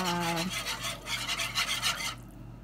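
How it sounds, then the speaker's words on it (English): A whisk works a flour mixture in a saucepan on the stove, making quick rhythmic scraping and swishing strokes close up over a low steady hum. A voice is briefly heard at the start before the whisking stops. "we gotta just keep whisking"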